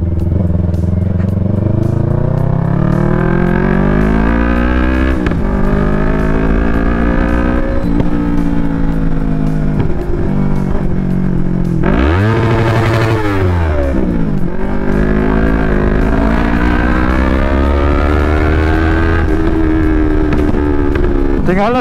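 A Yamaha MT-03 motorcycle engine revs loudly and close up, rising and falling in repeated throttle blips over a steady idle, with one sharp high rev near the middle.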